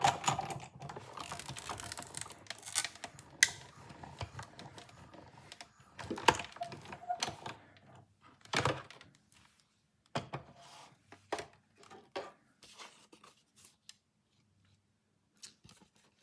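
A manual die-cutting machine feeds a shaped card through its rollers, giving close, intermittent mechanical clicks, rattles and crunching bursts that thin into sparse ticks toward the end, with no voices.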